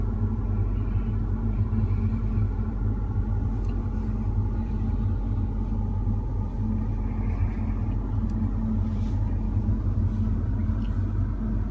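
A car lapping the Autodrome Chaudière race track gives a steady, loud low engine rumble with little change in pitch, heard from inside the car with no talk.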